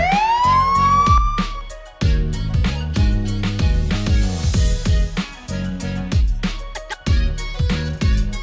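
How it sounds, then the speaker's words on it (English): A police car siren wails over a musical backing, its rising tone joined by rhythmic beats and repeated loud hits, close and prominent throughout. "Police car."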